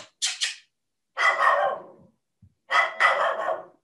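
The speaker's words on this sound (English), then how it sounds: "Sorry, my dog is very, very loud." A dog barks loudly in short bursts, two quick yelps followed by two longer, harsher barking runs with brief silences between, close to the listener and with no talk over it.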